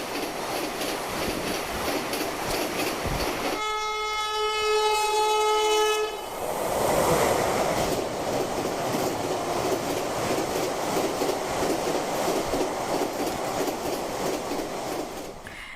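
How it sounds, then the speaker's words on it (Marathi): A locally built 16-car Vande Bharat Express on a 130 km/h test run from Palghar toward Mumbai sounds a long, loud horn blast over continuous rolling rail noise as it passes close by. "चाचणी दरम्यान वंदे भारत पालघरमधून मुंबईकडे रवाना झाली"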